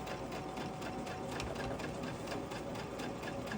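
A sewing machine quilts steadily along a seam line while binding a quilt, its rapid stitching whirr running close and continuous the whole time with a light mechanical rattle.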